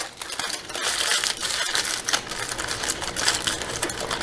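Aluminum foil being folded up around a small measured portion of seasoning in a home kitchen, giving a steady run of close, crisp crinkling and crunching with no talking.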